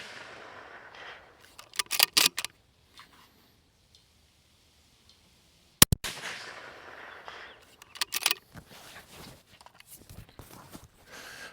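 Rifle shots fired outdoors during a scope test, a few sharp, loud cracks scattered among quiet stretches and faint shuffling, without talking.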